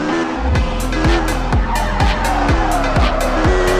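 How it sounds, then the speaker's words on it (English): Car drifting in the Car Simulator 2 video game, with a loud engine drone and a series of repeated tire squeals rising and falling about every half second, sounding alone and close. "Let's drift here. Just see my drifting skills."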